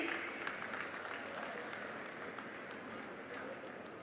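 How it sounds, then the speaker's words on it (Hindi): A crowd at a government development-project launch event in Amroha, India, applauds steadily throughout, a dense wash of clapping heard at a moderate distance, with faint voices mixed in. "आप सभी की जोरदार तालियां बनी रहें"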